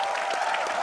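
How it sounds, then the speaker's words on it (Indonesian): A studio audience at an Indonesian TV talk show gives a short burst of clapping, a brief dense patter of applause. "Oke, tepuk tangan dulu"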